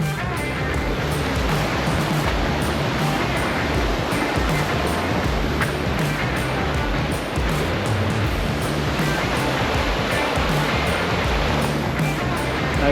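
The San Diego River, running higher than usual after rain, rushes steadily beneath a trail crossing, a continuous broad wash of flowing water mixed with wind noise, close and loud throughout with no voices.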